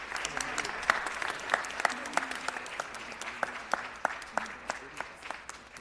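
Applause in a city council chamber, a modest group clapping with distinct rhythmic individual claps standing out over a softer background patter for several seconds, with faint voices underneath.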